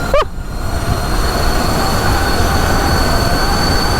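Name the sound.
homemade mini electric supermoto at full throttle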